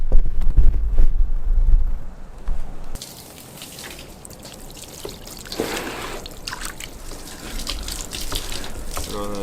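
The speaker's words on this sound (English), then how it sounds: "I'm gonna grab the water hose and I'm gonna rinse this down so you guys can see" A water hose rinses a scrubbed old steering wheel after cleaning. The water splashes and trickles in a broad, uneven hiss with spattering drips, closer and louder at first, then shifting as the spray moves.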